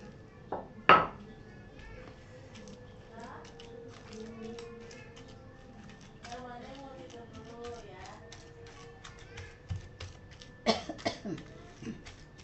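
A few sharp coughs, set off by ground chili, stand out near the start and end, amid clinking pots, utensil taps and soft kitchen clatter with some speech.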